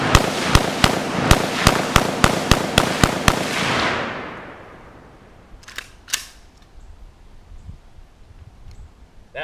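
Rapid string of about twelve sharp gunshots fired into wood targets in a backyard, evenly spaced and loud, then a fading echo and a few quieter clicks and knocks.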